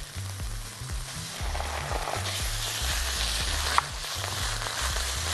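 Tomato sauce poured into a pan of sizzling minced meat, eggplant and rice, steady frying hiss with rhythmic stirring scrapes throughout, close and moderately loud, no talking.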